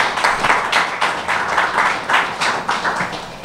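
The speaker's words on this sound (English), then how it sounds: "Let's give His Excellency a round of applause." An audience applauding a head of government at the launch of a national archives website, a steady round of clapping that swells and fades in waves, alone without speech.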